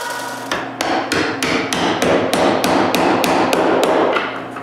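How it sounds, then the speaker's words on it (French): Ends of metal rods being chamfered for a wooden tripod build: a series of loud, evenly spaced sharp metallic strikes, about a dozen in quick rhythm, close up with ringing tails and no speech. "là, je chanfreine leur bout."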